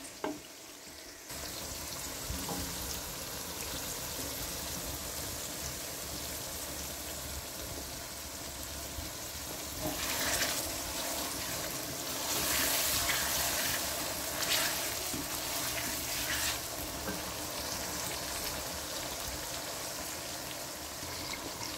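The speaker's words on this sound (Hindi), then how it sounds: "अब हम तीनों चीज़ों को अच्छी तरह से भून लेंगे" Potatoes fry with tomato, onion and green chilli in a pan, giving a continuous soft sizzle that swells brighter in the middle as the mixture is stirred.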